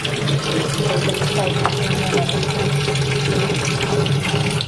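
Water runs steadily into a dish of mixed dal for soaking, a constant close splashing pour with a faint voice murmuring underneath.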